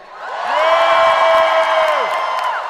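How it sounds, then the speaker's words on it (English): Comedy audience erupting in loud cheers and whoops, a swelling roar of many voices with shrill individual yells and some clapping, holding strong before easing off. "Cheer if you don't think that's okay."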